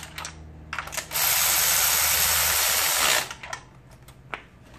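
Power ratchet or driver tightening spark plugs on a Nissan Versa 1.8 engine, one steady whirring burst of about two seconds between quieter clicks and handling noises.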